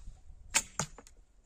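An arrow looses from a light, leather-covered yew recurve bow: a sharp twang with a bright hiss, then a second quick snap and a short fading whoosh, all close and over within a second.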